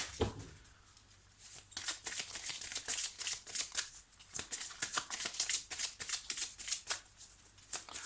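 Oracle cards being shuffled by hand, a rapid run of soft papery riffles and flutters in quick repeated bursts, close and fairly quiet, with no voice.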